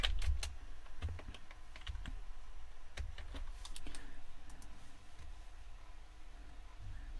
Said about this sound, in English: type in the name of our new curve there